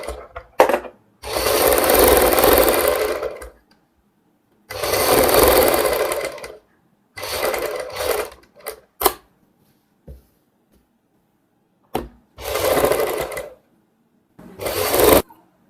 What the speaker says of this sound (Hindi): अब हमने यहाँ पे लब की सिलाई लगा लेनी है इस साइड।